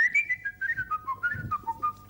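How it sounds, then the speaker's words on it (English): Someone whistles a short, faint melody of several quick gliding notes, alone and close by. "Give us a little whistle"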